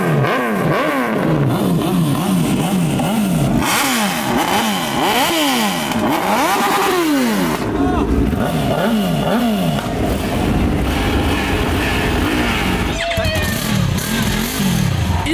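Motorcycle engines rev up and down again and again, loud and close, with rising and falling whines that overlap throughout.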